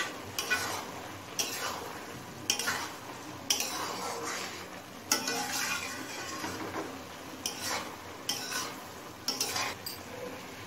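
Broccoli being stirred into a pot of navaratna pulao: repeated scraping strokes of a spoon against the pot, roughly every second, over a soft background sizzle, close up with no talking.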